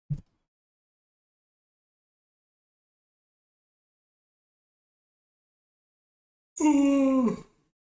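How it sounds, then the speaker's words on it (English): A single drawn-out human yawn near the end, voiced and tonal with a falling pitch, heard alone after a brief faint sound at the start and long silence. "Sorry to yawn, everyone."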